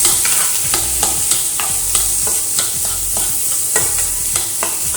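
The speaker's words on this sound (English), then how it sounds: "I'm going to give that a little stir around." Mince and garlic fry in a pan and get stirred, a loud continuous sizzle with regular scraping knocks of the utensil against the pan, close and without voices.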